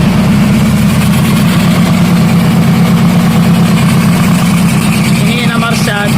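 A four-cylinder car engine with cylinder deactivation, fitted to a motorcycle, runs steadily at idle: a loud, close, continuous low throb with an even pulsing rhythm throughout.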